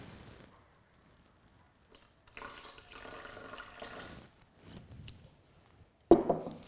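Water pours into a blender of pink smoothie made with almond cream, a faint, brief trickling splash that stops, and then a sharp clunk closes the pour.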